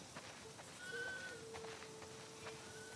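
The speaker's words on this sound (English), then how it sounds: "Wow, that's a lot of sheep." Sheep bleating in The Last of Us Part II, a few drawn-out tonal bleats close by over quiet background ambience.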